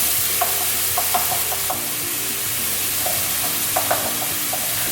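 Ground chicken sizzles in a hot pan for pad ka prao while a wooden spoon breaks it up, a steady frying hiss with soft scraping and tapping strokes scattered throughout.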